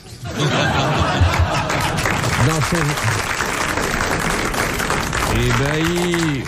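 Studio audience on a 1980 French TV talk show applauding to welcome a guest, dense sustained clapping mixed with chuckles and chatter, with voices rising over the crowd near the end.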